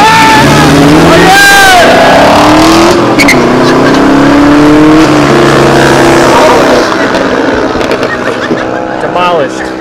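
Cars roar and rev loudly at a street drag race in Mexico, engines close and accelerating, with rising and falling tones under shouting voices and crowd chatter throughout.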